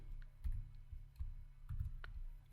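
A few scattered key clicks from typing on a computer keyboard while entering HTML code, faint and irregular over a low steady hum, with no talking.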